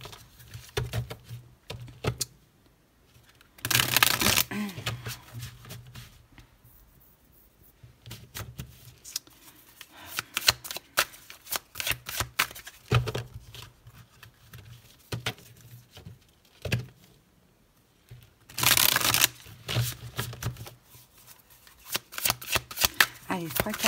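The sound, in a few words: shuffling tarot cards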